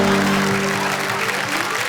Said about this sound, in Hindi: एक बार जरा तालियां